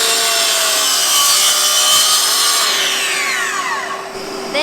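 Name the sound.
miter saw making a 45-degree bevel cut in wood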